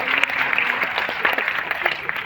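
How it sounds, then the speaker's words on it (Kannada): Audience applause, a dense steady patter of many hands clapping at a comedy show, continuous and fairly loud throughout. "ಚಪ್ಪಾಳೆ ತಟ್ಟು ತಟ್ಟು ತಟ್ಟು"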